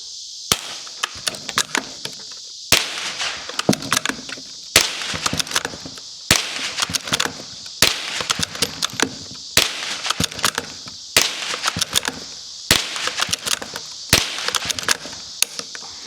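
Nine sharp, loud shots ring out from a bolt-action gun fired as fast as possible, each crack followed by a quick burst of echo and clatter, spaced roughly two seconds apart.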